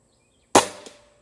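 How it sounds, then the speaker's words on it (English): One sharp crack from an Airacuda Max air rifle fired in a backyard setting, loud and close. It decays quickly and leaves a faint ringing tail. "I'm going to take a couple shots for the center and see where I'm hitting."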